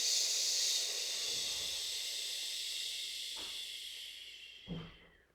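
A slow, steady exhale during a guided breathing exercise, heard as a long airy hiss that fades gradually, followed by a couple of soft breath sounds near the end.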